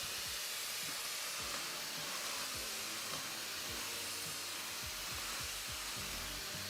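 A vacuum cleaner runs continuously with a broad steady hissing whoosh, with faint low thumps scattered underneath and no talk.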